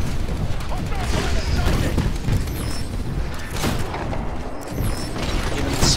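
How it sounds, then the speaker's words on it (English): A Titan fires its weapon during Titanfall gameplay, sounding as repeated booming shots and mechanical clatter within a dense mix of battle noise. Someone talks over the action. "Titan shooting at someone."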